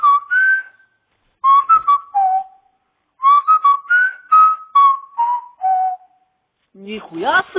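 A person whistles clear, close melodic phrases in three bursts separated by short pauses, each a string of quick pitched notes, before a voice cuts in at the end.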